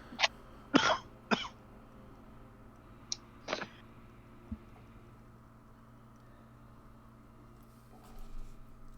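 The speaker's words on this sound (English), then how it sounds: "got a coughing fit tonight" A few sharp coughs and throat-clearing bursts, close by, spread over the first few seconds, then a quiet room with faint background hum.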